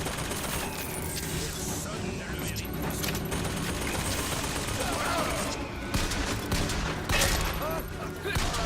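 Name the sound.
gunfire in video game Bioshock Infinite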